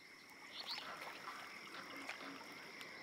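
Frogs croak in a marshy spot in Baldur's Gate 3, with repeated faint croaks layered over a steady insect-like ambience and no voices.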